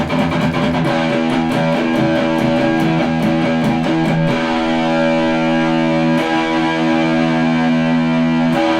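Heavily distorted electric guitar plays a fast alternate-picked Megadeth riff, with rapid chugging picked notes giving way to sustained ringing chords, loud and upfront with no talking.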